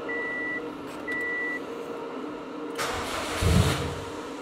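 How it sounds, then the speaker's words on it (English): A Subaru STi with a big turbo build cranks over and fires up while warm, a brief electronic beep first, then the starter whir catching into a rough, rumbling idle close by. "We're gonna see if the car can crank over, maybe with just a little gas and stay on"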